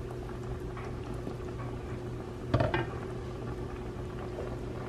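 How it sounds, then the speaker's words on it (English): Potato, carrot and corn stirred in a pot, a low bubbling simmer throughout with one brief clatter of a utensil against the pot midway. "Ini mau aku aduk-aduk sebentar, terus mau aku bumbu-bumbuin"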